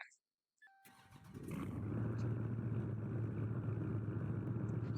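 A 2021 Dodge Charger engine starting: a click and starter whir, then the motor catches and swells into a loud, steady rumbling idle up close.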